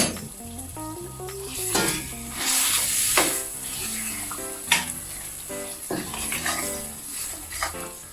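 Pork is stir-fried in Thai panang curry paste over moderate heat, with a spatula scraping and clanking in the pan over a soft sizzle, irregular stirring strokes throughout, while background music plays.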